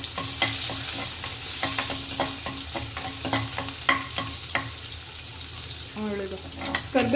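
Cumin and onion frying in a pan, a steady sizzle punctuated by regular scraping stirs of a spoon against the pan, close and moderately loud, with a brief watery splash near the end.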